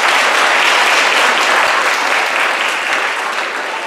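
A theater audience claps loudly and continuously, a dense steady wash of applause that tapers slightly toward the end.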